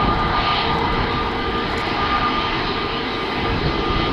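An Airbus A320neo taxiing at Amsterdam Schiphol Airport, bound for London Gatwick, gives a steady, loud jet-engine roar and whine that holds constant throughout with no voices.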